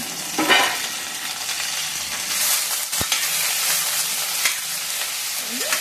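Ivy gourd and potato pieces tossed in a pan for a fry, giving a close, steady sizzle with rough scraping and stirring clatter throughout and no voices.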